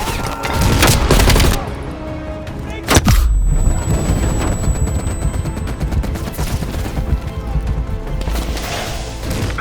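Machine gun fire in Call of Duty Black Ops Cold War from an entrenched MG position, a loud near burst followed by sustained rattling bursts and booms that continue throughout, with a sharp blast around the three-second mark.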